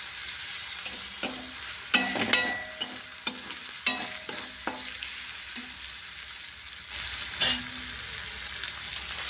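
Banana flower, pre-cooked with chickpeas and potato, fried in a pan: irregular scraping stirs and clinks over a steady sizzle, close and moderately loud, with no talking.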